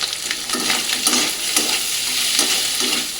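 Boiled potatoes, peanuts and spices fry in a pan while a spoon stirs them, giving a close, steady sizzle broken by regular scraping strokes, with no one talking.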